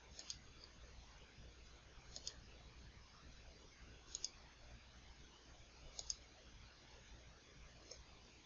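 A computer mouse clicks in CAD software, faint paired clicks repeating about every two seconds over a quiet background hiss.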